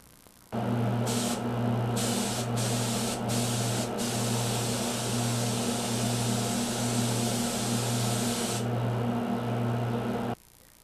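A spray gun lays a quick coat of blue color finish over maple already sealed with clear lacquer, giving a loud, steady hiss with a compressor-like hum underneath, broken by a few brief pauses in the trigger near the start and stopping cleanly at the end.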